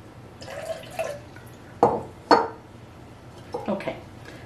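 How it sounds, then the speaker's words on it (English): Water poured into a DIY self-watering pot gives soft splashes and two sharper drip-like plops, moderately near, among light clinks of the container. "we want to fill the water just above where the holes are that we put in."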